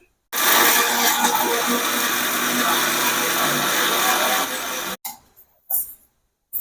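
A mixer grinder whirs loudly and continuously, grinding fried curry leaves and dried chillies to powder, then stops abruptly, followed by a few short clunks of the jar.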